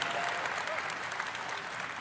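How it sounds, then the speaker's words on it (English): A live audience applauds at BlizzCon during the Overwatch World Cup, a steady wash of clapping from a large crowd heard at a distance, with no other sound standing out. "Applause."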